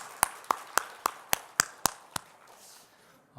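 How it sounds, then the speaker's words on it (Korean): A church congregation at a worship service claps in unison: eight sharp, evenly spaced claps in a steady rhythm, then the clapping stops and the room falls quiet. "다시 한번 더 기쁘게 우리 박수 한번 드릴까요?"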